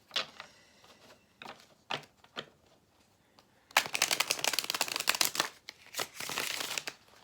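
A Rider-Waite tarot deck being handled: scattered soft card flicks and taps, then a fast, loud riffle shuffle of the cards close by, with no talk.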